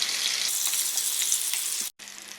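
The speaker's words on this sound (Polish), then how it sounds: "Polędwiczki obsmażyły się ze wszystkich stron" Pork tenderloins sizzle in a hot frying pan with a steady, close crackle that runs nearly unbroken, cuts off briefly near the end and then resumes more faintly.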